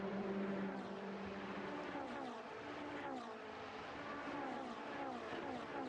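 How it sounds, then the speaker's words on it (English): Ferrari Challenge race cars sweep past a trackside point at Monza during a 2015 Copa Shell race, several engine notes rising and falling in quick succession as the cars pass close by, with no talk over them. "They sound absolutely fantastic as they pass our camera point there as Tommy Lindroth comes under pressure from"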